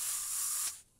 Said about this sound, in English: The spray can, it doesn't feel as quick.